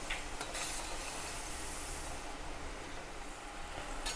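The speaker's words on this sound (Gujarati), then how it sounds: "આપણે અહીંયા ગોલ્ડન બ્રાઉન થાય ત્યાં સુધી આપણે તળવાના છે" Cashew salted biscuits (kaju namak para) deep-frying in hot oil over a medium gas flame, a steady close bubbling sizzle with no talk.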